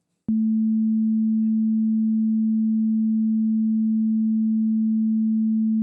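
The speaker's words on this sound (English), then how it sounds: "So here you can see the sine wave." A pure, steady low sine tone starts abruptly and holds at a constant pitch and volume for several seconds.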